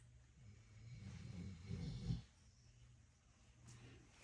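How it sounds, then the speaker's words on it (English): A dog snores softly in the background, a low rumbling breath swelling and fading over a couple of seconds, faint and distant in a quiet room. "It's my dog in the background."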